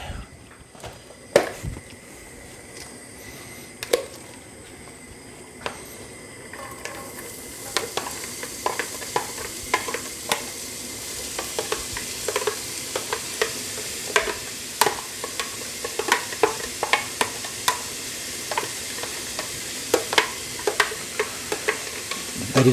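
Onion and celery frying in a pan for a Gambian-style domoda stew, a steady soft sizzle broken by frequent sharp clicks and scrapes of a utensil stirring, close and fairly quiet, with no talking.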